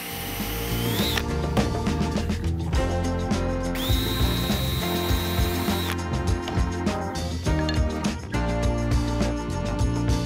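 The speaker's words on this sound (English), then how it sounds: "I'll just line up my wood and drill right in from the back of the other one." A power drill bores pilot holes through wood pieces for a birdhouse, a steady loud whir with a rising whine in the middle and repeated bursts of drilling, with no talking.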